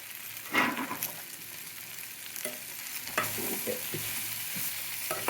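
Okra deep-fries in a pan with salt, chilli powder and coriander, giving a steady close sizzle while a spoon stirs and scrapes in several irregular strokes.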